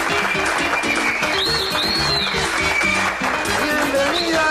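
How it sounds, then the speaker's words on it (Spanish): Studio audience applause on a Venezuelan television variety show, clapping under loud music with whistle-like melodic lines and other sounds throughout. "Un aplauso, señoras y señores, para Vitrina Saralegui."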